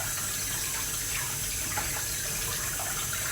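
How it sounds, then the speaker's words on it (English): Tap water running steadily into a sink as rice is rinsed, a constant close rushing splash with no pauses. "Give it a good rinse under the tap"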